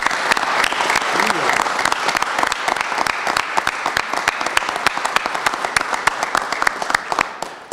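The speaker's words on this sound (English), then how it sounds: "So if we can give them one round of applause." A press-conference crowd gives a round of applause for law-enforcement officers of a mobile operations unit, a dense, steady burst of many hands clapping at close range that holds for several seconds before thinning slightly.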